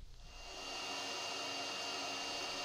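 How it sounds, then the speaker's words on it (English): A bandsaw starts up and runs at a steady hum while roughing out the shape of a mother of pearl guitar inlay, a continuous motor drone growing louder in the first half second, with no voices. "you may think that I'm crazy cutting out a piece of mother of pearl with a bandsaw"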